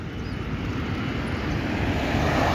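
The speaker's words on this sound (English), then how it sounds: "The British Airways plane is now taken off." A British Airways airliner takes off at Grantley Adams International Airport in Barbados, a steady, loud broadband jet engine roar with a low rumble that swells slightly and runs continuously with no speech.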